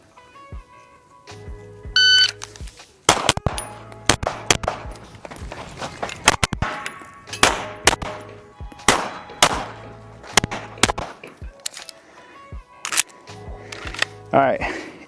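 Pistol shots crack in rapid strings during Carry Optics competitive shooting practice, loud and close, with short pauses between bursts and steel targets ringing faintly. A voice talks briefly in between.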